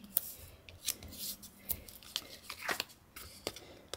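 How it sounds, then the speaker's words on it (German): Adhesive tape being pulled and torn off for cardmaking, close-up rasping rips and short crackles in uneven bursts, fairly faint in a quiet room. "Jetzt hier noch Klebeband."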